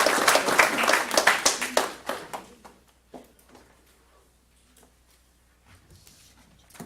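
Scattered applause from a small audience at a county school board meeting, sharp individual claps for about two seconds that thin out to a few stray claps and near quiet.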